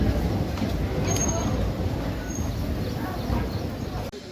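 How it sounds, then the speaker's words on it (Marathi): Koyna Express pulling into Jaysingpur railway station, a steady, loud low rumble of the moving train with a brief high whine, ending in a sudden drop near the end. "आपली कोयना एक्सप्रेस जी आहे ती जयसिंगपूर रेल्वे स्टेशनवर पोहोचली आहे"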